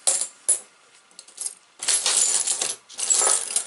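Metal coins clink and jingle as they are sorted and dropped, a few sharp single taps followed by longer cascading rattles of many coins spilling together, close and clear.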